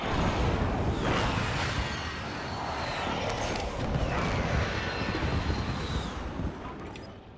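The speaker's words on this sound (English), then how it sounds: "Precision airstrike inbound." A precision airstrike in the battle royale shooter Call of Duty: Warzone, jets sweeping overhead with whooshing passes and several rumbling explosions spread over a few seconds, moderately loud against a noisy battlefield bed.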